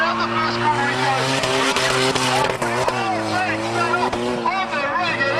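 A small-chassis drift car skids hard around the first corner at a drift nationals event, its engine revving high and steady with tire squeal throughout, loud and close, while a commentator talks over it.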